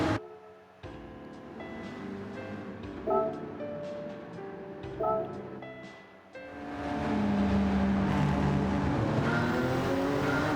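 Porsche 911 GT3 race car engine in a racing game, revving and shifting through gears with rising and falling pitch, then swelling into a loud sustained roar as it accelerates.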